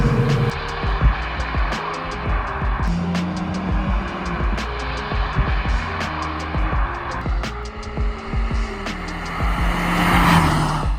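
A 2015 Mercedes CLA 180 four-door coupe drives along a road out of sport mode, its engine droning steadily with rising and falling revs, tire and road noise, and scattered knocks and clicks from inside the cabin.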